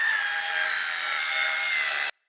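A steady, high-pitched whine of a power drill drilling holes in a sectional garage door rail, running continuously for about two seconds, then stopping abruptly.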